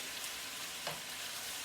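Chicken and mushrooms sauteing in a pan give a steady, soft sizzle with no breaks, faint and close, and a small stir or pop comes through near the middle.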